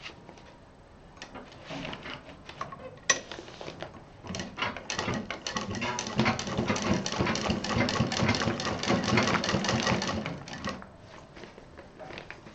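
A sewing machine stitches a waterproof apron, starting with scattered clicks and then running in a long, rapid, rattling burst near the mic before easing off at the end.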